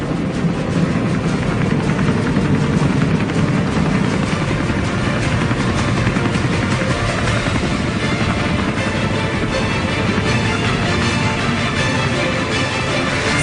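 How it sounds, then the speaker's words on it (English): A loud, continuous roar of a combined military helicopter formation of Seahawk, Apache, Super Puma and Chinook aircraft flying past overhead at a National Day parade, rotor and engine noise filling the whole stretch. "this year's National Day aerial flypast is the combined helicopter formation, featuring the Seahawk, Apache, Super Puma, and Chinook helicopters."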